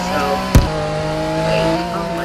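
A 2012 Lamborghini Aventador LP700-4 in the game Greenville lets out a loud, tonal tire squeal as the parking brake locks at top speed, with a sharp knock near the start and engine drone underneath.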